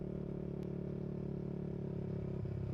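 Motorcycles ride along a road near Dolores, Quezon, keeping up a steady, close engine drone with no pause and no talking.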